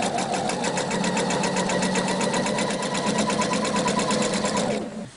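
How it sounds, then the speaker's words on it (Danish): An overlock sewing machine stitches along a fabric edge in a fast, steady mechanical whir with rapid needle clatter, running loud and close without talk before stopping abruptly at the end. "Og jeg lægger lige stikningen her i kanten af min overlock."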